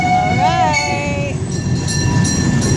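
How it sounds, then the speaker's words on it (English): Zoo train rumbling along the track, a loud rolling rail noise with a wavering horn or whistle tone near the start and speech mixed in. "Say bye-bye, train."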